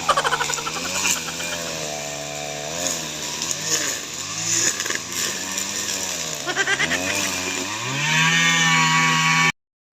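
A gasoline grass cutter runs while clearing fast-regrowing grass, its small engine whining close by and rising and falling in pitch as it revs, steady for several seconds before cutting off abruptly.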